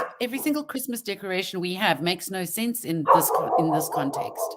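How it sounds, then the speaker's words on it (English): A dog barks and yips intermittently in the background while a person keeps talking over it in the foreground. "Excuse the dog again."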